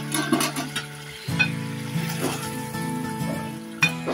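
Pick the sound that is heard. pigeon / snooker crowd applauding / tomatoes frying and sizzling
tomatoes frying and sizzling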